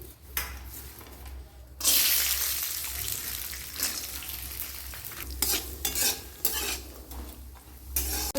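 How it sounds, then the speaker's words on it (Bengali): Cashews fry in hot oil in a kadai with a steady, close sizzle, broken by louder bursts of stirring and scraping, no speech. "এবার আমি কাজুটা ভেজে নিচ্ছি"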